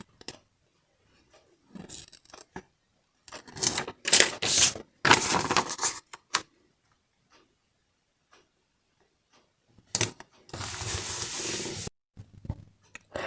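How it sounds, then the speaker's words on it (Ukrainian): A small packet is torn and rustled open in a few short, crisp bursts of crinkling and tearing separated by quiet pauses, with no one speaking. "Тож, думаю, що час відкрити цей пакетик"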